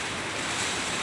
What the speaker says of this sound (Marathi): काय पाऊस पडलेला आहे.